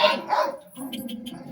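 A Rhodesian Ridgeback gives a short burst of barks during obedience training, two or three close, loud yelps at the start, followed by quieter rustling and faint movement.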